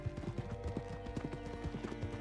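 Horse hooves clip-clop in a quick, steady rhythm on a hard surface, close by, with no talking, in the video game Red Dead Redemption 2.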